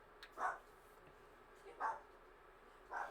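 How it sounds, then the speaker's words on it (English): A dog indoors gives three separate sharp barks, evenly spaced about a second and a half apart, each short and fairly close, over a quiet room hum. "Why is she barking at you?"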